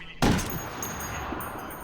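A single loud, close gunshot cracks out in the open-world shooter Ghost Recon Wildlands, followed by a long rolling echo that fades slowly, with no voices.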